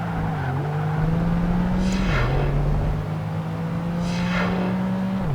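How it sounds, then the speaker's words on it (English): A Ferrari 575 Maranello races in Project Gotham Racing 2 on Xbox, its engine droning loudly and steadily with gear-change dips, as rival cars whoosh past twice in close, rising-and-falling sweeps. "575 Maranello, one of my absolute favorite supercars of all time"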